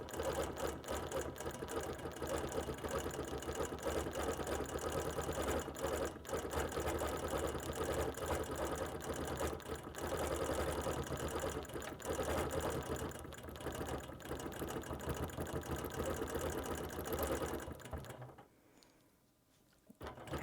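Sewing machine quilting appliqué with monofilament thread, a steady close running whir and mechanical chatter for most of the clip, stopping near the end before a brief restart.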